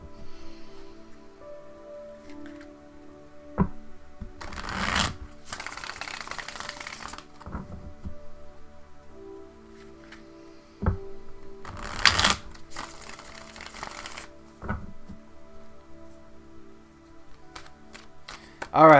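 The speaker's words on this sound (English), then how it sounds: "ask the cards the question and shuffle them up" Tarot cards are shuffled in two riffling bursts, brisk papery flutters with soft taps and handling sounds between them, no talking.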